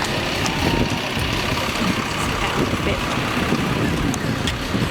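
A tour bus engine idles on a cold, rainy day before passengers board, a steady low rumble beneath nearby talking.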